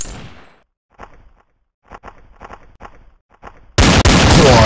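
Gunfire in a special-ops shooter video game: several short, sharp shots spaced across the first seconds, then a loud, dense burst of fire at the end, with no talking.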